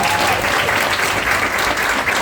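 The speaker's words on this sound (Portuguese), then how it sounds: "Palmas para a Vera." An audience bursts into loud, dense applause for Vera, a steady wash of clapping lasting the whole moment.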